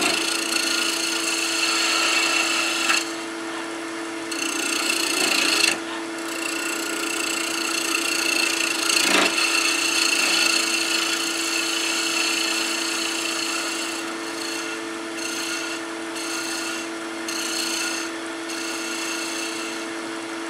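A wood lathe hums steadily while a skew chisel cuts the spinning wood of a spurtle, with a continuous scraping whir and brief pauses as the tool lifts.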